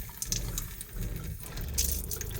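Water runs steadily from an RV bathroom faucet nearby, a continuous hissing splash with small fluctuations and no voices.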